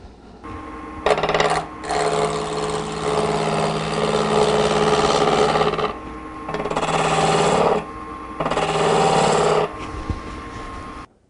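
A wood lathe turns a table leg, rounding off a broken corner, with steady whirring cutting passes broken by short pauses, close and fairly loud with no talk.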